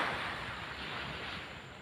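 Waves wash steadily onto a beach, a broad continuous surf roar mixed with wind noise, close and fairly loud, with no talk.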